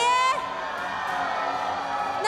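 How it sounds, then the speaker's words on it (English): A large arena crowd at an Honor of Kings esports event roars and cheers in a sustained, dense wash of voices, with a brief burst of whoops at the start and again at the end. "And as we can see right now, we have an amazing crowd."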